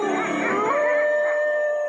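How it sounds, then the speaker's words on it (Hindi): Several dogs howl and whimper together outdoors near a house, a sustained mournful wail with rising and falling tones, loud and close, no talk. "वो अभी भी रवि के घर की तरफ देखकर रो रहे थे"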